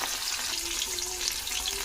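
Tengra fish frying in hot oil for a spicy curry, a dense, even sizzle that hisses continuously and close up without any talking.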